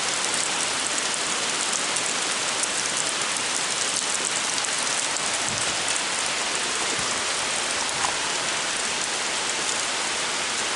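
Steady rain falling outdoors in muddy weather, a dense, even hiss of drops on surfaces that stays constant and fairly loud for the whole stretch with no talking.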